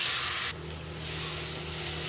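Onion paste and chili powder fry in oil for an Andhra-style crab curry, giving a steady close sizzling hiss that drops briefly and then settles back to a continuous sputtering fry.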